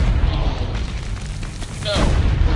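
Heavy, rumbling booms of cannon fire and explosions fill the scene in the Assassin's Creed Brotherhood video game, loud and continuous with a dense low roar throughout.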